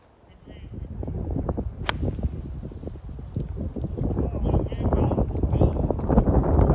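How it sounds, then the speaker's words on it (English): Strong wind gusts roar and buffet the microphone in a steady low rumble on a golf course, with a few sharp knocks and rustles near the start. "You can see it's really windy."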